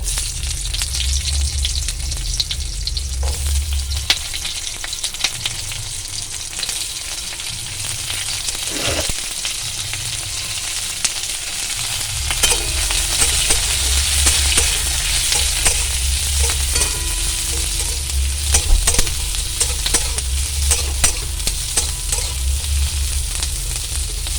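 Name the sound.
onion frying with garlic in a kadai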